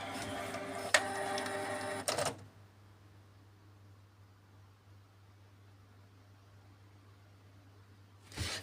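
A Canon G-series inkjet printer showing support code 5200 runs its mechanism briefly in a close, whirring burst, then falls nearly silent with a faint hum before a short mechanical sound returns at the end.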